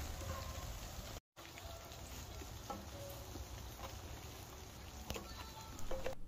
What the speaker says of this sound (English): And the rain picked up again, so we decided to eat in the tent.